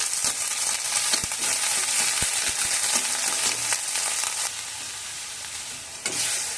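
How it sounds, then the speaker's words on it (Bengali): Ginger paste frying in a pan with a little salt for a Bengali green papaya curry, a bright continuous sizzle with occasional scraping stirs, close by and steady. "আদাটা একটু ভেজে নিয়ে"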